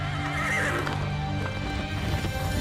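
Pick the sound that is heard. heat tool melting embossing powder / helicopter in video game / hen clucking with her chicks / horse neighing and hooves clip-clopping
horse neighing and hooves clip-clopping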